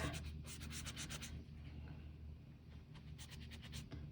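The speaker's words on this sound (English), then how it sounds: "So if I wanted to grab this and then just rub it on an area, it will remove it and kind of soften that dark area up." A baby wipe rubbed on a plate gives faint, rhythmic scratchy strokes in quick bursts, a pause, then another run of rubbing, heard alone and close.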